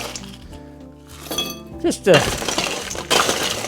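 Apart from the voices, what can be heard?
fresh ice cubes dropped into a hurricane glass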